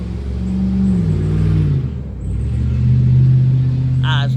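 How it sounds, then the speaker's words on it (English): A truck drives up a street with a low, steady engine rumble that swells and eases slightly as it moves along, while a person keeps talking over it. "I was letting the truck go up the street."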